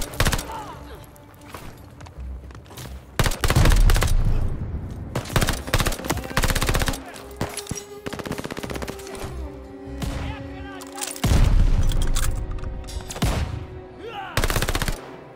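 Gunfire in Call of Duty: Vanguard, with bursts of machine-gun fire and single shots coming in loud clusters separated by quieter gaps, mixed with thuds and impacts, and a voice speaking at times.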